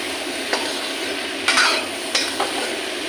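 Sponge gourd and dry fish curry stirred in a pan, a soft steady sizzle broken by a few sharp scrapes and clacks of the spoon against the pan, close and alone without speech.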